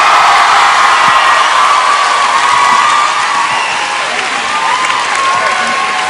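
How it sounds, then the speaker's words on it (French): Studio audience on a French TV talent show applauding and cheering for guest of honour P. Diddy, a steady, loud wash of clapping, whoops and crowd noise that holds throughout with a slight dip near the end. "On peut l'applaudir s'il vous plaît, P. Diddy."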